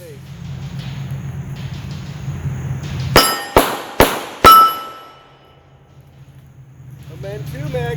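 Four sharp 9mm pistol shots fired in quick succession at an outdoor shooting range from about 10 yards, loud and close, followed by quiet with background noise and faint talk at the end.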